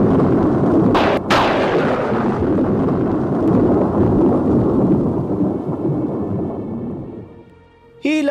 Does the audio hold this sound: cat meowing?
no